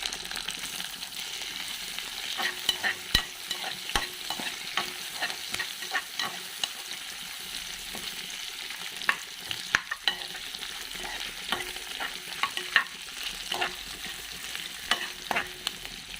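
Sliced onion and small garlic cloves fry in a pan, a continuous close sizzle broken by frequent scraping and tapping of a spoon stirring, with no speech.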